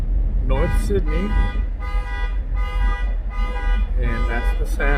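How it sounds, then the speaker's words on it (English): A car alarm sounds aboard a ferry crossing from North Sydney toward Newfoundland, its loud repeating tonal blasts pulsing in about five bursts over steady low engine rumble. "that's the sound of a car alarm that can't handle the boat"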